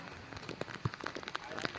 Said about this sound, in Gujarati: અત્યારે ધોધમાર વરસાદ શરૂ થઈ ગયો છે